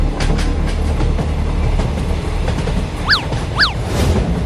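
A train rolls past in a Hindi cartoon with a loud, steady rumble and rattling wheels, and two quick falling whistle-like tones come near the end.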